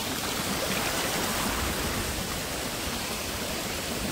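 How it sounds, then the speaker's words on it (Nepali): A mountain stream rushes down from the hills in a steady, close, full-bodied wash of water that stays constant throughout, with no voices. "यो खोला चाहिँ त्यहाँ माथि पाहाडबाट आउँछ"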